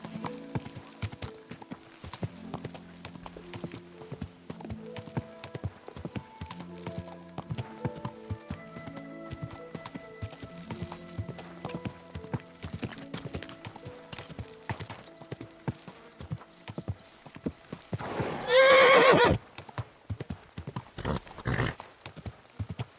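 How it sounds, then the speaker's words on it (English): Steady clip-clop of horse hooves in the video game Kingdom Come: Deliverance II over a faint tonal background, then a loud whinny near the end, followed by a few more hoofbeats. "Easy, good horse."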